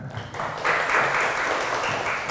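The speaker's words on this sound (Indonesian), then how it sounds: "Tepuk tangan." An audience at an Islamic religious gathering applauds steadily, a dense wash of clapping that holds at even strength for a couple of seconds.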